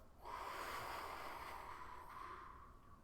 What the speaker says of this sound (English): Slow inhale. Slow exhale.